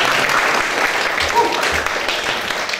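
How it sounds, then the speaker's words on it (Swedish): An audience applauds in a hall during a question session with the chair of Sweden's defence committee. Steady, moderately loud clapping continues for the full few seconds under faint voices. "det är nästan värt en applåd."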